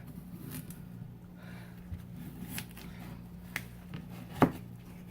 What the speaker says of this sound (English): now the potatoes are peeled, and it says cut them lengthwise